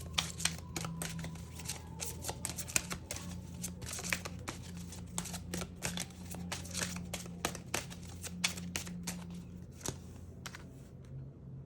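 Tarot cards are shuffled close up, a continuous run of quick crisp riffles and snaps over about eleven seconds, fairly quiet, with a low steady hum underneath.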